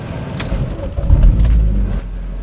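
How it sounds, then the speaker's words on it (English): A 2013 Vauxhall Astra J SRi 1.4 engine turns over and settles into a low, rumbling idle, loud and close, with a slight surge before steadying. "So I'm gonna start this car."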